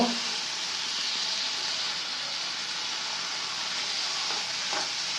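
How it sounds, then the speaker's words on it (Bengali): Winter vegetables fry in a pan for pasta, giving a steady, fairly quiet sizzle with a faint stir or clink near the end. "সবজিটা ভালো করে ভেজে নিচ্ছি একবারে শুকনা করে নিব"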